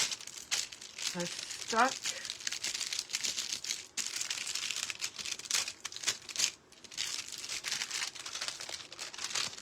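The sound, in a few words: handling foil on decoupage coaster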